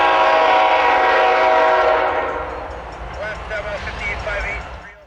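A CN freight train, Q115, rolls past loudly with a sustained horn blast that fades after a couple of seconds, leaving the rumble of passing cars and faint chirps.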